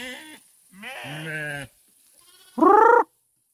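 Sheep on a farm bleating up close, several wavering calls separated by short pauses, the last one loudest and sharpest.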